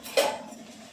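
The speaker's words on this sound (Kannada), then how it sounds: "ಈ ಪಾತ್ರೆ ತೊಳೆ" A single metal clink of utensils knocking against dishes while pots and plates are washed during a deep house cleaning for the Ugadi festival, quiet and close with faint background hiss.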